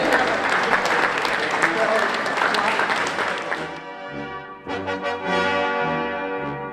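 An audience applauds at a Honor Flight Long Island event honoring World War II veterans, a dense burst of clapping that fades after a few seconds, with music and a voice rising afterward.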